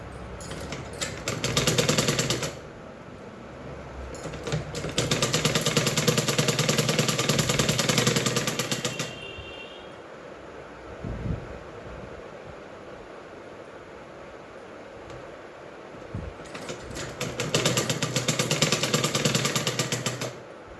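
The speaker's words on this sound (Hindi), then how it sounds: "इसलिए मुझे हाथ की मशीन से काम करना पड़ता है। ये मैं इसमें गोटा अटैच कर रही हूँ इस तरीके से।" Hand-cranked sewing machine stitching gota trim onto fabric, a loud rhythmic mechanical whirring in bursts of a few seconds separated by quieter pauses, close by with no talk.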